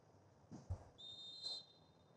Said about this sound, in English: Whistle blown, hand in the air.